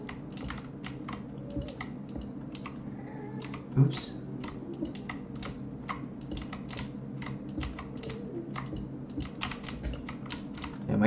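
A computer keyboard clacks rapidly and loudly during fast typing while gaming, with dense irregular keystrokes, a few heavier clicks, and a short spoken word from the typist.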